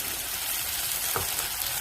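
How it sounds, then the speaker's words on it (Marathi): Spices tempered with peas, onion, tomato and chilli frying in a pan give a steady, close sizzle that runs evenly throughout, with one brief stirring scrape near the middle. "आणि आपण हे सर्व मिक्स करून फोडणी तयार करून घेऊया"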